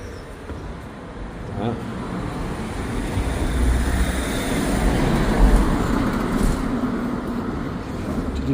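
A bus passes on a road through the countryside, a steady broadband engine and tyre rumble that builds gradually and stays close for several seconds over outdoor ambience, with no clear voices.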